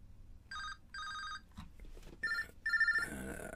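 A phone rings with repeated electronic trills, two even bursts followed by a few more rapid, louder ones close by, with some faint background noise between them and no talking.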